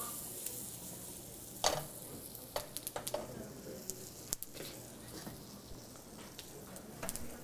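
Food sears in a hot pan at a chef's demonstration dinner of Middle Eastern dishes, giving a steady low sizzle with scattered sharp crackles and pops, fairly quiet and close, with no talking.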